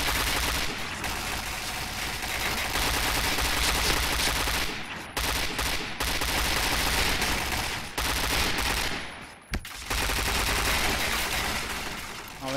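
Dense automatic gunfire fills the Point Blank shooter game nearly without pause, loud and continuous, broken by a few brief gaps and one sharp isolated crack near the end.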